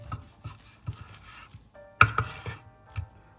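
A knife cuts through cooked broccoli in half, giving soft taps followed by a sharp clink of the blade against a plate, quiet and close.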